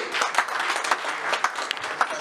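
A crowd applauds steadily at a Gabonese Democratic Party anniversary gathering in France, dense clapping at moderate loudness with a few sharper claps standing out, no voices.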